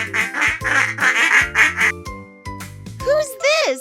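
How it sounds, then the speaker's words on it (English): A duck quacks in a short run of bright nasal calls, loud and close, over a cheerful jingling music bed, followed by a brief whistle-like sweep. "It's a duck! Quack, quack!"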